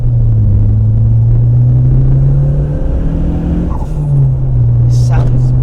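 A Fiat Punto GT engine drones steadily up close, its low hum dipping briefly before picking up again, with a few faint clicks near the end.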